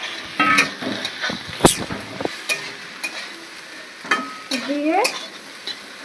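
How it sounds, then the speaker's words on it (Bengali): Pre-fried fish slides into a pan of potatoes and pointed gourd, and a spatula then stirs the mix. Clattering scrapes and knocks rise over a loud, close sizzle, with a brief word spoken. "পটল আলুটা কষানো হয়ে গেছে। এবার এই ভেজে রাখা মাছটা এর মধ্যে ছেড়ে দেবো।"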